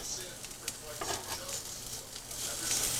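A couple of garlic cloves sizzling in a hot pan for chicken penne with spinach, a steady crackling hiss with light stirring scrapes, close and fairly loud throughout.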